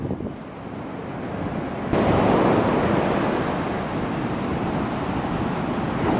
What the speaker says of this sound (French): La mer de Chine devant nous.